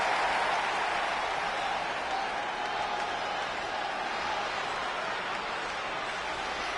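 Home crowd in WWE 2K20 keeps up a steady roar of cheering through a wrestling entrance, broad and continuous with no single voice standing out, holding an even level across the whole stretch.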